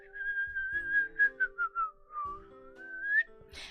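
A person whistles a wavering tune up close, one long gliding note broken by a few short chirpy bursts, then a breathy puff at the end.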